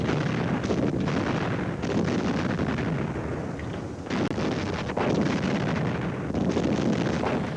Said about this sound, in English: A heavy Soviet artillery barrage signals the likely begin of a large attack.